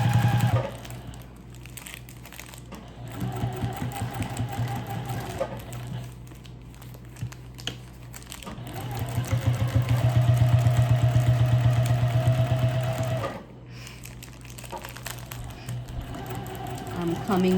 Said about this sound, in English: let me continue to sew